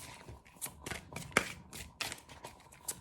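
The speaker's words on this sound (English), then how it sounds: "there's a lot of interfering energies while I'm shuffling" Tarot cards being shuffled by hand, a soft quick sequence of riffling and flicking bursts with small sharp snaps, close and quiet with no talk.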